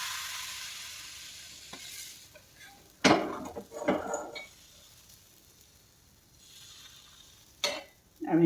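Patishapta pitha batter going into a hot pan, mostly quiet with a sudden burst of sizzle and clattering utensil knocks, then another short sizzle and clink near the end.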